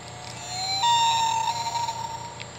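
Recorded common loon call plays from an Audubon bird plush toy, a thin electronic wailing tone that rises and holds, gently wavering over a faint background hum, with no talking.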